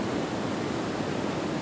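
Steady broadband roar of Wren Falls in Iron County, a dense unbroken rush of falling water close by, with no voices.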